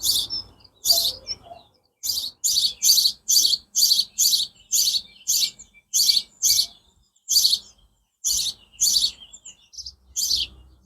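Sparrows nesting in a swift box in a Welsh garden on a warm evening chirp in quick, loud bursts close by, with short pauses between clusters of sharp calls and no talking.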